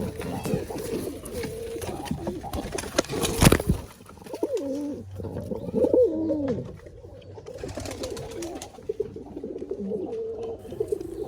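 Pigeons coo in a loft holding nests with hatchlings, soft repeated throaty coos near and at moderate level, with one brief louder rustle and someone talking over part of it.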